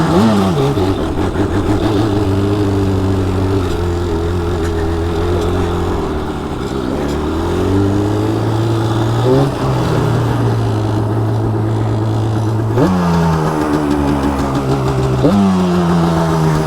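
A stock Yamaha Banshee 350 and a stock Honda CR125R accelerate hard in first gear on pavement, loud and close. Their engine notes rise together in repeated climbing sweeps, dropping at each shift or throttle lift before climbing again.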